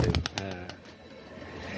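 Small pigeons that are moulting coo in a few quick pulses at the start, then fade into a hushed, murmuring background.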